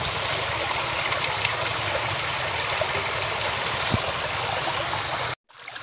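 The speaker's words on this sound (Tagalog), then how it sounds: "So itong sapa na to mga bossing," A small forest stream flows in a steady, loud rush of water that runs continuously before cutting out abruptly near the end, with no talking.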